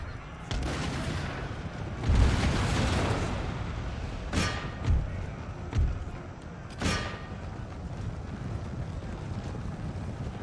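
Cannon fire rings out across a battlefield in Empire: Total War: several booming blasts at irregular intervals, some close and some farther off, over a windy ambient background.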